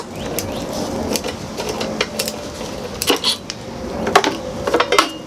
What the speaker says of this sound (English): Basically all you're going to want to do is unscrew these.